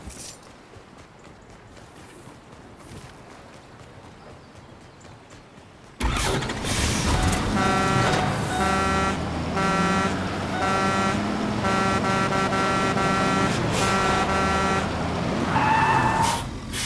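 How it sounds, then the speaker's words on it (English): A truck in Fortnite starts up and drives off, its engine roaring loud and steady after a quiet stretch, with a horn-like toot near the end. "I'll grab this truck."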